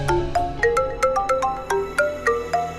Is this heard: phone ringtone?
yes